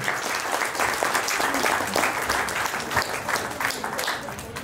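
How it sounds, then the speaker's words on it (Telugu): Dense, sustained applause from a crowd fills the hall at a film academy's second anniversary celebration, steady and loud throughout with a faint voice underneath. "గట్టిగా చప్పట్లు."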